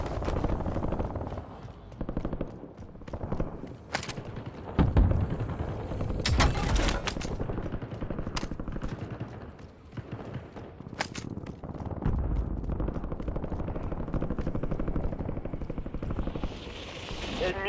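Gunfire in the Call of Duty Warzone video game, several bursts of shots scattered over steady in-game background noise, with voice callouts from the game heard in between.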